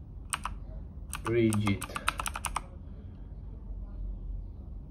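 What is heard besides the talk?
typing on a computer keyboard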